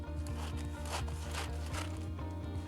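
Scissors cut through folded baking paper in quick, rhythmic rasping snips, heard fairly close over a steady musical background.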